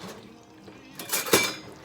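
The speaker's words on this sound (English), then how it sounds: "Let me just move that pan." A pan is shifted on a home stovetop while marinara is being made, giving a faint scrape and a short metallic clunk near the end over quiet kitchen background.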